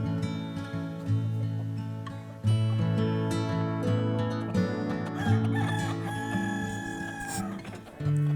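In a chicken pen, a rooster crows repeatedly while hens cluck and squawk close by, a busy overlapping flock chorus with no talking.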